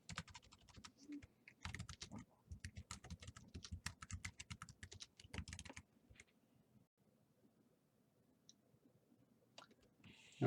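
Someone types on a computer keyboard, producing rapid, close clicking keystrokes in a busy run that thins out to a few scattered taps and then falls quiet.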